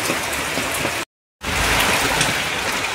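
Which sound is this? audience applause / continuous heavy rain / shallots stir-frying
continuous heavy rain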